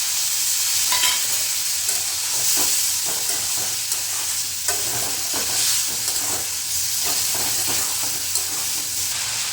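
Vegetables fry in a pan with ginger and green chili paste, a steady loud sizzle and hiss running throughout, with occasional soft scrapes of stirring close by and no voices.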